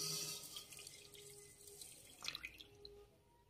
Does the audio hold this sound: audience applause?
no